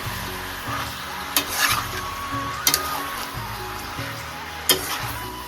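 Chicken stirs and fries in a pan at a home feast in Mithila, a steady sizzle running throughout, with a few sharp spoon-on-pan clacks and scrapes as it is mixed.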